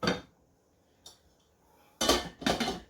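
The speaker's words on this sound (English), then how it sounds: "So we're going to let that simmer. And I'm going to put the lid on." A pot lid clanks down on a pot of simmering rice, with a metallic clatter at the start, a faint tap partway through, then two louder rattling clanks near the end.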